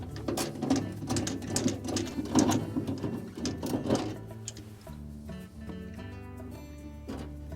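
A screwdriver, most likely powered, whirs steadily as it backs 1/4-inch hex head screws out of a refrigerator evaporator cover at the fan motor bracket. The close, continuous drive fades after about four seconds, with no talking.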